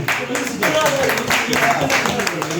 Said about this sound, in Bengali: এবং মেঘনার জন্য একটি করতালি